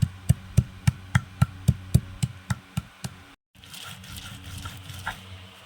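Henna leaves being pounded on a grinding stone like spices, a steady series of about a dozen close, sharp knocks that fade into a softer rubbing, grinding texture.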